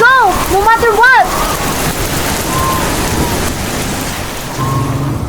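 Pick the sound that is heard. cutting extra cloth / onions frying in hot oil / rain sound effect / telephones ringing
rain sound effect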